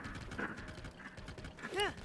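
A horse in Zelda: Tears of the Kingdom trots with rhythmic clip-clopping hooves, close and moderately loud, under continuous game sounds, and a brief whinny-like tone rises near the end.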